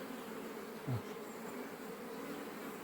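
Honey bees buzz at an apiary hive, a dense continuous hum close by with one louder bee passing briefly near the mic.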